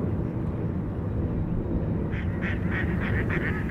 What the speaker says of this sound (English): At least the ducks and geese along the Bow River are.